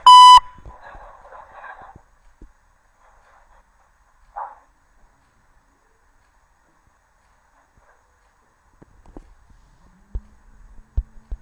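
An automated KBC phone line gives one loud electronic beep right at the start, followed by long near-silence with faint scattered clicks and noises.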